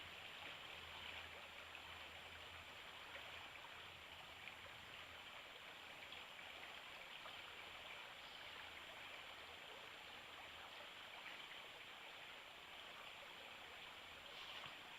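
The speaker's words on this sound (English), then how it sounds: "That's Quebec Run Creek, or whatever you want to call it." Steady rushing and babbling of Quebec Run Creek in the woods during an overnight backpacking trip, a continuous broadband wash of water over rocks with no pauses, heard alone without voices.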